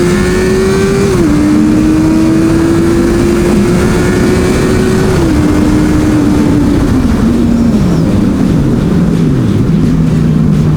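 A Honda CB650F motorcycle drones at steady speed, engine note climbing through held gears and dropping in pitch after shifts, close and loud with heavy wind roar throughout.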